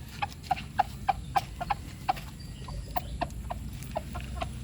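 Golden Sweater, LDT Grey and Butcher hens cluck nearby in a steady series of short, sharp calls, about three or four a second, with no talking.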